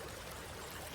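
Water poured by hand for bathing in a hill household makes a faint, steady trickling splash throughout a brief moment, with no voices.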